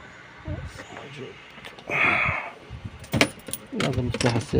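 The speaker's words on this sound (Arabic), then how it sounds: "هذا مفتاح السيارة." Car keys for a Range Rover jingle and clink in short bursts close by, mixed with a few clicks and shuffling, as a person talks over them.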